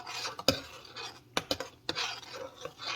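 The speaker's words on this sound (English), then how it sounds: "I am just going to add it to the pot, stirring in between time." Ripe plantain oatmeal porridge being stirred in a pot, soft scraping and swishing strokes with a few sharp clinks of the spoon against the pot, close and fairly quiet.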